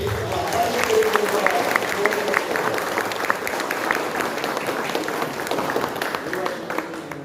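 An audience at a state executive committee meeting breaks into loud, sustained clapping, a dense even patter of many hands lasting throughout and heard close.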